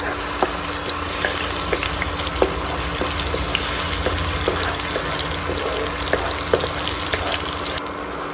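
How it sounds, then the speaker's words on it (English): Ginger garlic paste fries steadily in a pan with a dense, continuous sizzle, close and even, marked by a few faint ticks and pops and no voices. "just fry it till it changes to light brown color"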